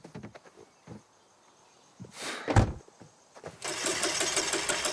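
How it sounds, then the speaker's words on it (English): A minivan engine in The Quarry cranking and failing to catch, with sputtering bursts of starter noise, a loud strained whir and a rising mechanical rattle, close and alone. "I think there's something wrong with the engine, Mr. H."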